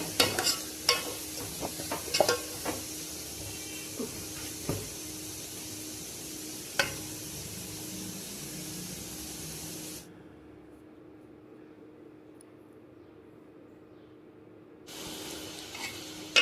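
Horse gram palya fried and stirred in a pan, a steady broadband sizzle with scattered scraping clicks from the spatula, then a few seconds of near-quiet before the frying hiss returns.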